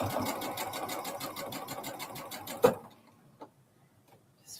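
A sewing machine stitches fabric in a fast, even rhythmic clatter for a few seconds, then stops abruptly with a sharp clunk, followed by a couple of faint taps in near silence.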